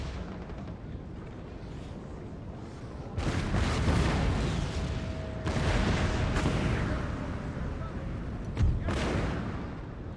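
Cannon artillery in a Napoleon: Total War battle booms in several heavy, rumbling blasts against a constant background roar of battle, with distant reports and crackling in between.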